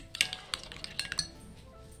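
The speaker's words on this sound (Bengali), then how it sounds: "এখন আমরা ডিমগুলোকে ভালোভাবে মিশিয়ে নেব।" Eggs are beaten for an omelette in a bowl, giving a quick irregular run of light clinks of utensil against the bowl, fairly faint and close, with no talking.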